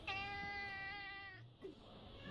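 A cat gives one long, clear, drawn-out meow close by in a quiet indoor room, followed by a brief faint murmur.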